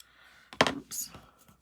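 A single sharp snip of nail clippers cutting through a small piece of dimensional adhesive, heard once and close up in an otherwise quiet moment, followed by a faint trailing rustle.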